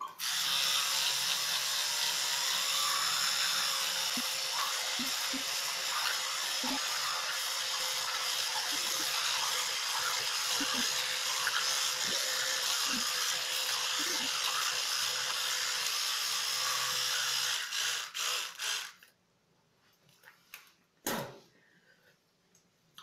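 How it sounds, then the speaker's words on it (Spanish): Someone brushes their teeth with a toothbrush: a close, steady buzzing with faint scrubbing that runs for most of the time, then stops, leaving a few small knocks and handling sounds. "me acabo de cepillar los dientes"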